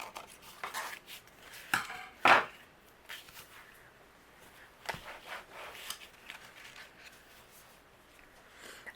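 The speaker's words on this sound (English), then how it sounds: "I'm going to go ahead and trim away the excess here" Scissors or a trimmer cutting away excess patterned paper for a handmade Independence Day card, a few crisp close snips and paper rustles scattered through a quiet room.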